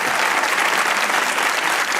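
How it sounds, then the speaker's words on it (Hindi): Steady, dense audience applause fills the studio of a comedy talk show, a continuous wash of many hands clapping with no break. "तालियां। तालियां।"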